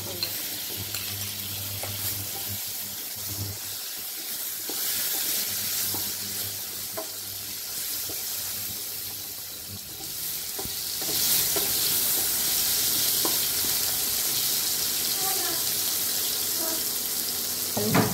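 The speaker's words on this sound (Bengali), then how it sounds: "আলুটা একটু ভাজা হোক ততক্ষণে" Sliced potatoes sizzle steadily as they fry in hot oil in a pan, a continuous close crackle that grows louder partway through, with faint stirring scrapes and no talk.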